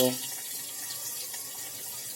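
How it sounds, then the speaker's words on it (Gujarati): Water poured into a khamani mixture for Surti sev khamani, a short soft splashing rush after a brief opening tone, close and fairly quiet. "ત્યાર પછી થોડું પાણી ઉમેરવાનું છે"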